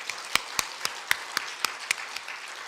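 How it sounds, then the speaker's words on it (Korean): A congregation at a church revival service claps in steady unison, with about ten sharp, evenly spaced claps in quick rhythm and no talking over them. "박수를 치러 하시라."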